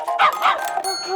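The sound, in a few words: dog with her puppies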